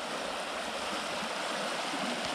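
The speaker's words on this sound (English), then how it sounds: "It's still just roaring right over that beaver dam." High creek water roars over a beaver dam in a steady, dense, broadband rush that stays loud and unbroken throughout, with no voices.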